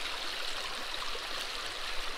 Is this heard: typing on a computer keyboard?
no